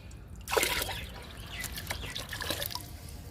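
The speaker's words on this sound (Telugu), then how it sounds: "ఒక్కొక్క బకెట్లో ఒక్కొక్క మొగ్గు పోస్తున్నా." Kitchen waste liquid is poured from a mug into a bucket, starting with a splash and settling into a steady trickle and dribble, close by with no talking.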